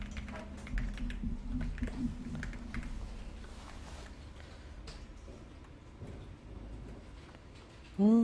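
Computer keyboard clattering as text is typed into a PowerPoint slide, fast close keystrokes in bursts that thin out, with faint voices in the room.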